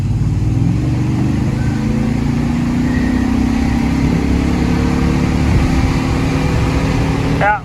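An old truck engine drones loudly and steadily under load as it pulls, its low harmonic hum shifting slightly in pitch as it accelerates, close and continuous, with a brief high squeak at the very end.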